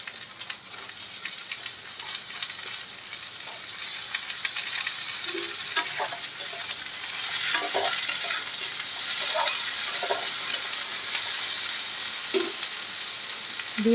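Vegetables tipped into a pan of lightly fried onions and green chilies, a continuous close sizzle with occasional metal clinks and stirring scrapes, growing a little louder partway through.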